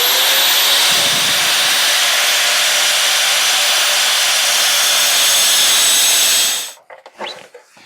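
A power tool cutting round bar stock for a Honda Rebel 250 fork brace gives a loud, continuous, steady grinding whine that stops abruptly near the end, leaving a few faint clatters.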